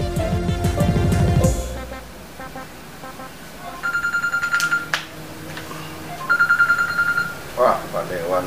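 A phone call is dialed and rings out: a loud burst of tones at the start, then repeated ringback pulses at steady intervals, with someone speaking between them.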